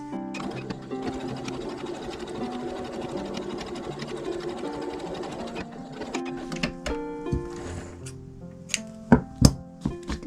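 A sewing machine stitches a fabric seam for a small scrap-cloth box, a steady close mechanical whir that later breaks into short bursts with sharp clacks and knocks as the stitching stops and starts.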